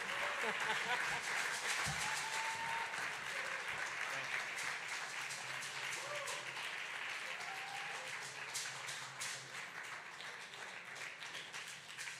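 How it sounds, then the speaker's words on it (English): An audience applauds Spike Lee at a Malcolm X birthday tribute celebration, a sustained, fairly distant wash of clapping that holds steady for several seconds while voices and cheers rise faintly through it. "Give Spike another round of applause"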